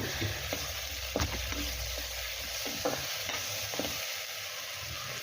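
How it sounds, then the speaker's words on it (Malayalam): Okra with green chillies, ginger and garlic sautés in a pan, giving a constant sizzle under repeated stirring strokes and soft scrapes of a spoon. "രണ്ട് പച്ചമുളക് കൂടി ചേർത്ത് കൊടുത്ത് നല്ലപോലെ ഒന്ന് വഴറ്റിയെടുക്കണം"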